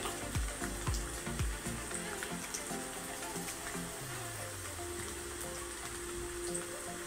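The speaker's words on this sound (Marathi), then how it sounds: "आता कांदा आपला व्यवस्थित भाजतोय।" Chopped onion sizzles and fries in a pan while being cooked for chicken kaleji masala, a steady crackling hiss with a few stirring clinks near the start, close and continuous with no talking.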